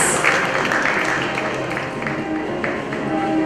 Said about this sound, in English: Ladies and gentlemen, a big round of applause for Sudhir, please.